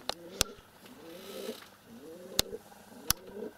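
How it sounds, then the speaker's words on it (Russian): Pigeons coo indoors inside a wooden hut, soft rolling repeated calls in a quiet room, punctuated by a few sharp clicks. "Голуби воркуют у меня в избе."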